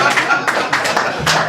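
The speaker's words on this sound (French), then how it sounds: "J'aimerais qu'on applaudisse pour le patron" A group at a birthday party claps in quick, uneven bursts, loud and close, with a few people's voices mixed into the clapping.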